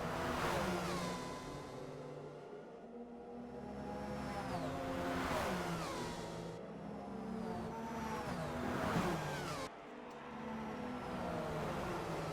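Race cars roaring and accelerating through a 24 Hours of Daytona racing game, engine pitch rising and falling in repeated sweeps as cars pass, with a steady loud motor drone throughout.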